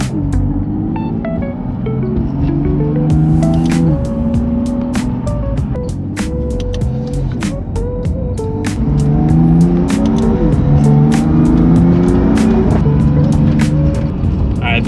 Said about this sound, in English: some exhaust clips, what the car kind of sounds like